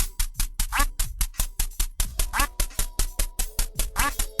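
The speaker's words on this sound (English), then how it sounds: "When you reach level 99 and complete the game, you go back to level 0 and see a duck rain." Cartoonish duck quacks from the Duck Hunt video game ending, where ducks rain down after level 99, repeat in a steady rapid rhythm of about twenty loud calls, close and clear with no talk.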